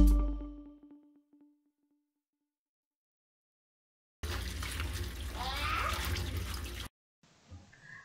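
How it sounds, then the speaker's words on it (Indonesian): Running water rinses fruit and vegetables for a few seconds in the middle, a steady splashing stream after a fading clatter and silence, with a brief soft sound at the end. "Bunda bisa cukup mencucinya dengan air mengalir saja"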